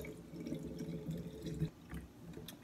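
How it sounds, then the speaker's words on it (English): Tap water pours steadily into a cold brew container, a continuous close splashing and rushing fill with a faint metallic ring, heard alone with no talking. "Let's go ahead and fill this up with water."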